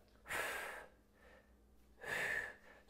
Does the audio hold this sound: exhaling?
yes